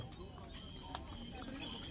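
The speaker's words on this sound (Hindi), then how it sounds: "यहाँ पे हजारों की संख्या में घोड़े हैं" Horses moving through a crowded horse camp on the Kedarnath pilgrimage footpath, with a faint, steady clip-clop of hooves mixed into busy background chatter and voices.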